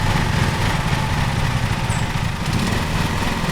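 In a lawn mowing simulator game, a mower engine runs continuously at a loud, steady drone with a slightly rough, pulsing texture, holding close and unbroken throughout with no voices.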